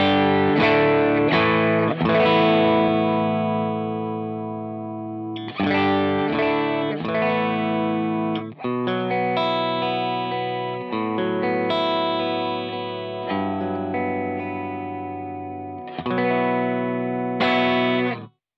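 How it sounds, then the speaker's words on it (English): Clean electric guitar through a Cornell Studio Rats prototype amp with no reverb or effects, playing sustained chords and picked notes in several phrases separated by brief pauses, loud and close with no talking. "let me just show you what the amp sounds like with any reverb or any effects on it"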